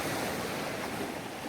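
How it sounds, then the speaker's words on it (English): Ocean surf washing steadily onto a beach at Boracay Newcoast in the Philippines, a continuous broad rush of waves with some wind buffeting the microphone and no voices. "It's actually a very nice beach."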